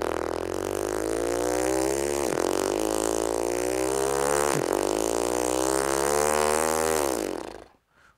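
A person buzzes their lips to imitate a motorcycle engine as a euphonium practice exercise, a loud continuous rev that dips and rises twice before cutting off abruptly.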